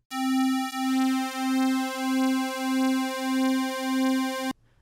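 Synthesizer lead built on pulse wave oscillators with the pulse width narrowed, sustaining a single bright, nasal, reedy tone with a slowly shifting timbre and gentle pulsing swells, loud and alone until an abrupt stop.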